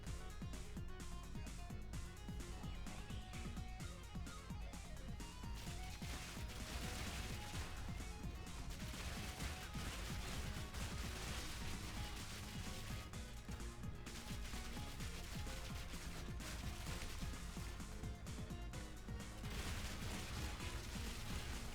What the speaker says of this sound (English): See, those armor explosions are just kind of gimpy